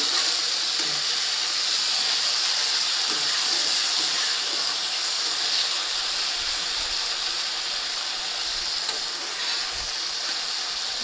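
Prawns frying in a pan give off a steady, loud, bright sizzle and hiss of hot oil, continuous with faint clicks.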